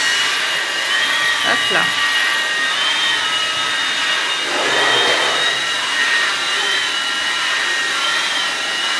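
A wet-dry vacuum cleaner runs with a steady, loud whine and hiss that is close by and continuous, with a short spoken word heard over it.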